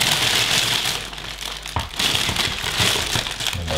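Plastic bags crinkling and rustling close by in bursts of varying intensity, crisp crackly texture with brief pauses, no voices over it.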